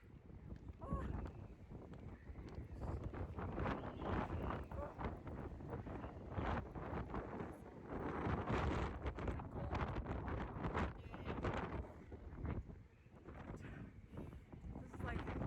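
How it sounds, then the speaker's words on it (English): Strong gusts buffet the microphone on a windy New York street, producing loud rumbling bursts that rise and fall throughout, with people talking nearby. "So windy."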